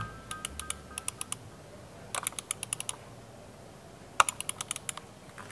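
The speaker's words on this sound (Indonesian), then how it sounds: "Lalu gimana sih suara ngeklik-ngekliknya di mouse ini?" Logitech G Pro X Superlight mouse buttons clicked in three quick bursts of sharp, close, crisp clicks, each burst a rapid string of four to eight clicks separated by brief pauses.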